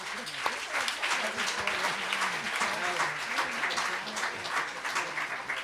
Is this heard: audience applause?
yes